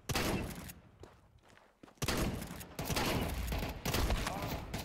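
Shotgun blasts ring out in Counter-Strike 2, loud booming bursts with a quieter pause between them and dense firing afterward.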